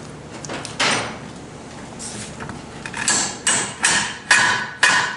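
Several sharp metallic hammer taps on a 4T65E transmission channel plate ring out, spaced about half a second apart, close by and moderately loud against a quiet background.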